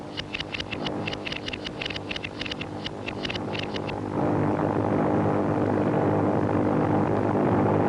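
Japanese bomber aircraft droning overhead in wartime China, a steady low propeller roar with rhythmic pulsing bursts in the first half, then a broader continuous rumble as the planes draw nearer.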